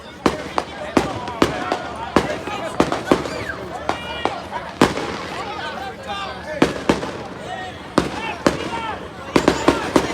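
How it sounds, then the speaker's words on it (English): Fireworks burst in repeated sharp cracks and pops over a noisy crowd at a high school football playoff game, with a commentator talking throughout. "And we got fireworks being lit off."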